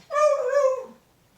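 A beagle lets out a single drawn-out whimpering howl at close range, rising and then trailing off in under a second.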